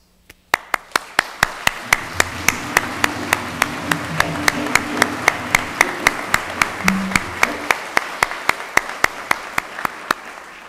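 Audience at a graduation ceremony clapping together in a loud, rhythmic unison beat of about thirty evenly spaced claps over a wash of scattered applause, with a faint murmur beneath.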